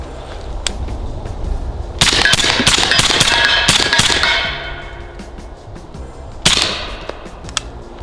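A Sig Rattler rifle fires loud, close, sharp reports: a rapid cluster of shots with ringing decay, then a single later shot, with no talking.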